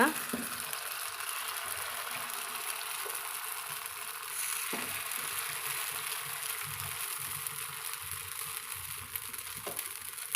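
Drumstick-leaf kuzhi paniyaram batter sizzles in a pan over medium heat, a steady bright frying hiss throughout with a few faint clicks and knocks of the pan.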